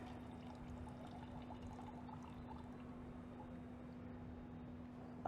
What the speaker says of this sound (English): So you can pour out all your excess water.